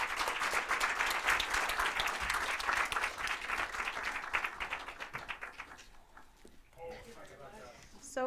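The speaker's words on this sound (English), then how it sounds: "a big round of applause" A conference audience at a cybersecurity event gives a round of applause for a panel. Loud, rapid clapping fills the first five seconds, then thins and fades as a speaker's voice takes over.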